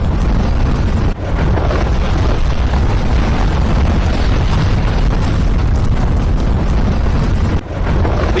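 A continuous deep, roaring rumble like a volcanic blast, loud and sustained, with brief dips in between; no voices.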